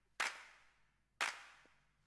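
Two crisp clap drum hits in an Ableton track, about a second apart, each a sharp snap with a short decaying room tail, with a faint low rumble between them.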